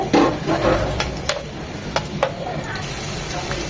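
Chopped onion frying in oil that already carries fish and spice flavour, giving a steady close sizzle broken by several sharp taps and scrapes of a stirring spoon against the pan.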